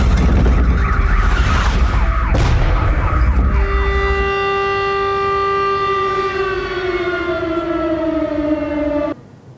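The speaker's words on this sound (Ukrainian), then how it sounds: "Відбій повітряної тривоги" An air raid all-clear siren in Zhytomyr sounds loud and alone as a long steady mechanical wail, holding level before fading down and cutting off abruptly near the end, with a rumbling onset underneath at first.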